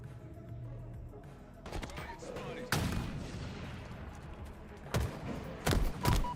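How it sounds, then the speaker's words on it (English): Gunfire from the Halo video game during a competitive match: scattered loud shots and bursts crack out at intervals over a quieter game background, with some talk faintly underneath. "They're shooting each other?"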